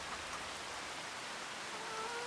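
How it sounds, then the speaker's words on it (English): Steady rain falls in the Farming Simulator 25 farm game, a continuous even hiss with no voices, holding at a moderate level throughout. "The rain is still falling."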